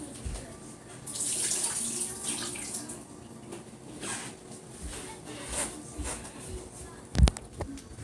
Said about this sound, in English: Alright, so now the potatoes are done. We're going to drain the potatoes.